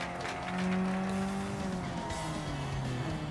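Tires squeal continuously as a car drifts in the Gran Turismo video game, a loud wavering screech with sliding pitch layered over a steady engine drone for a few seconds.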